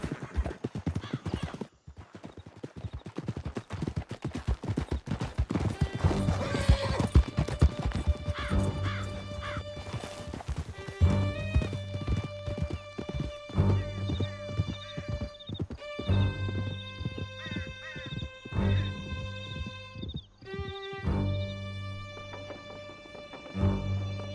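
A horse gallops at full pace in Red Dead Redemption 2, with rapid hoofbeats close up under a swelling musical score, a whinny and sharp impacts, and no talking.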